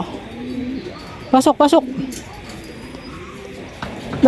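Racing pigeons arriving at a loft after a sprint race, with a brief cluster of close, pulsing bird calls lasting about half a second amid outdoor ambience, while someone talks faintly around it.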